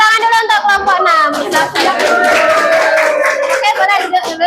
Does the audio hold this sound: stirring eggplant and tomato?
no